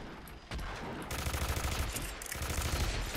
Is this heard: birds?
no